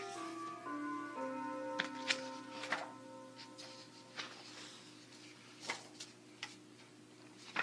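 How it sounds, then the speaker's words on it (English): A clock ticks softly and steadily while gentle tones sound at the start, then fade, leaving scattered ticks. "There's my clock."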